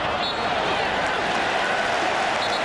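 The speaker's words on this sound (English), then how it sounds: "the crowd starting to stir, sensing perhaps that their team's building up a bit of a head of steam" Football stadium crowd at a Melbourne Victory match, a broad, even roar of many voices murmuring and stirring at a distance under a commentator's voice.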